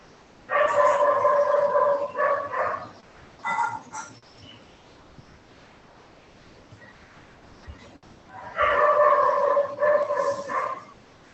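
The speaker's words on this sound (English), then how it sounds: "One dog doesn't like the session ending." A dog barks in two loud clusters of rapid, harsh barks with a short yelp between them, close by in an otherwise quiet room at the end of a yoga session.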